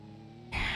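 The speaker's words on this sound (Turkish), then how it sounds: "Ay sireni patlattı." A siren suddenly bursts on loud and bright about halfway through, cutting in over a quiet, steady background.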